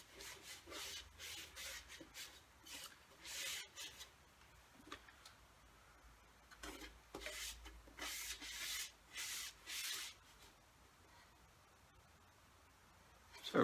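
A gloved hand rubs vinegar into a wooden coffee table, making faint, soft repeated rubbing strokes in irregular bursts, close by and otherwise quiet.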